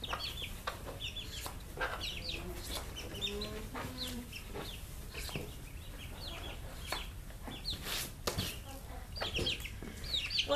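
Chickens cluck and chatter nearby in steady bursts on an alpaca farm, against a busy outdoor background, with scattered short calls throughout.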